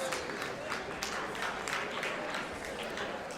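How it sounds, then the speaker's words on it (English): An audience at a district event gives a round of applause, a soft, even wash of clapping heard from a distance and sustained without a break. "let's give her another round of applause"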